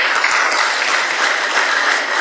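An audience claps at a church address by an Orthodox bishop. The applause is loud and dense and holds steady through the whole stretch, with no voices above it.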